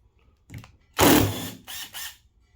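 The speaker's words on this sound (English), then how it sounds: "flip it upside down, and we'll remove the lower bolts. Ooh, somebody overlocked the crap out of these." Overtightened lower bolts are worked loose with a wrench, giving a few short, sharp bursts of mechanical ratcheting, close and loud, with brief pauses between them.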